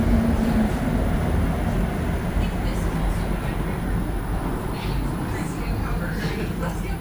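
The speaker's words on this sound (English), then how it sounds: "as Set 5 prepares to depart Sherbrooke Station" Montreal Metro AZUR train, Set 5, pulling out of Sherbrooke station: a steady loud low rumble of rubber-tyred cars through the underground station, with a high electrical whine above and some voices in the background.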